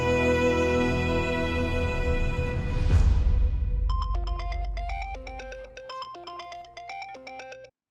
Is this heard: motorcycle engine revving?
no